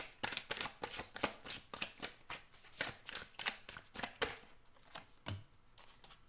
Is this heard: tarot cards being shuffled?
yes